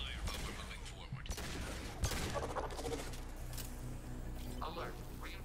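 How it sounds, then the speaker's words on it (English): Heavy gunfire in a Mass Effect 2 Legendary Edition firefight, a dense, continuous barrage of shots and impacts with sharper bursts near the start and middle, mixed with game effects and speech throughout. "Taking heavy fire, but we're moving forward."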